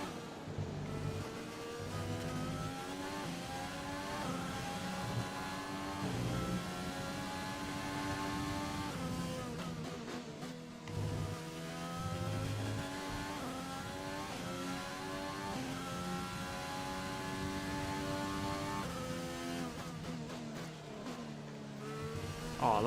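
An F1 car engine from the F1 2020 racing game, on the Australia circuit, screams continuously with rising and falling revs through gear shifts, with brief dips where the driver lifts off.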